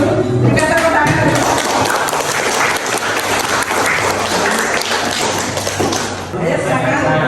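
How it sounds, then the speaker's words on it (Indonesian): A classroom group applauds, loud continuous clapping mixed with taps and thumps, and voices can be heard talking over it. "Kita tepuk tangan."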